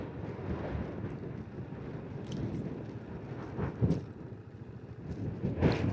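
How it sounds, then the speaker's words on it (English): Strong wind buffeting a cyclist's microphone on a road in Gansu, China, a loud continuous rumbling roar with heavier gusts surging, no talk. "the wind now is stopping me"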